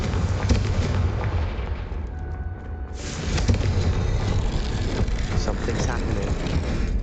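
Fiery Confringo spell blast in Hogwarts Legacy, a dense booming burst that briefly drops away and then surges back as a loud, continuous roar of crackling explosive noise.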